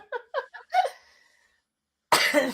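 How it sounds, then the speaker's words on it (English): A person in a coughing fit, with a few sharp close coughs in quick succession, then a pause and a louder harsh cough or gasp. "I started having a coughing fit."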